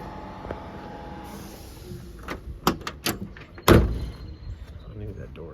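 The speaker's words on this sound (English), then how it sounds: "I knew that door didn't shut" A car door on an older Chevrolet is swung shut but fails to latch, leaving a few sharp knocks and then one louder clunk against faint background noise.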